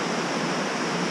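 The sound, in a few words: waterfall, water coming out of the rock in Iceland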